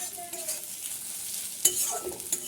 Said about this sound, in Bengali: এই যে দেখো পেঁয়াজ ভালো করে ভাজা ভাজা হয়ে গেছে।